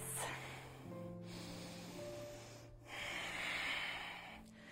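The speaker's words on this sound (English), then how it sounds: "Take a couple of deep breaths" Deep breaths during a yoga stretch, slow audible inhales and exhales with a soft nasal rush, quiet and close, alongside faint low background music tones.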